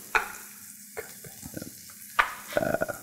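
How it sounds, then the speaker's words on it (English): Carrots, onions, green peppers and jalapeños sauté in a pan for crab cakes. Clearly audible bursts of sizzle come with a few stirring clatters and scrapes, close up and without speech. "We have our General Mirepoix carrots, onions, green peppers, jalapenos. Get those sauteing off, soften them up."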